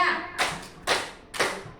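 A group of adults in a workshop session clapping out a rhythmic pattern, three sharp unison claps spaced evenly about half a second apart, each ringing briefly before the next.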